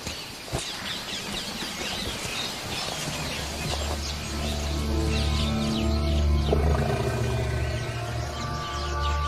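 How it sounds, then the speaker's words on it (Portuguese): A Bengal tiger roaring in a wildlife setting in India, a deep, loud sustained roar that swells toward the middle, with faint bird chirps in the background. "E 2 dos predadores mais extraordinários do mundo: o tigre de Bengala"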